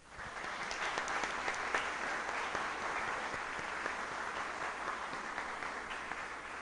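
An academic symposium audience gives a steady round of applause, many hands clapping together in an even, moderately distant wash without speech.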